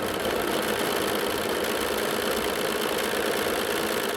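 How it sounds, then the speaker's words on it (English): A sewing machine stitching a quilt seam at a scant quarter inch runs in a steady, continuous motorized whir with a rapid mechanical texture, close and unbroken, with no talking. "let's get this sewn up"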